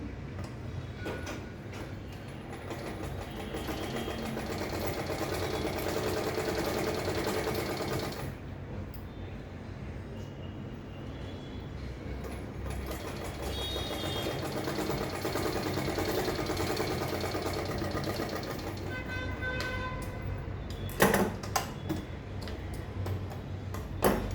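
A sewing machine stitches fabric in long, rapid runs, its rhythmic mechanical chatter pausing briefly and resuming, close and steady with no voices.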